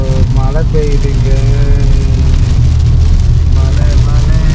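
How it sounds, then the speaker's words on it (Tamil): Heavy rain pours steadily in Sabah, Borneo, a dense, constant hiss throughout, with someone talking over it. "மழை இப்பயும் மழை அடிக்குது"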